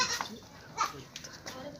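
A dairy-cross milking goat, a pregnant doe offered for sale at a livestock market in Lahore, bleats briefly and close by while people talk in the background.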